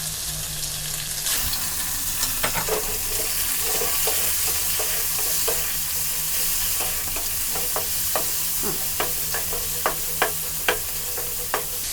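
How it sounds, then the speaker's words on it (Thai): Pieces of chicken sizzle loudly in a hot pan while a utensil scrapes and stirs in repeated clicks and taps. "เราใส่เนื้อไก่ลงไปได้เลย"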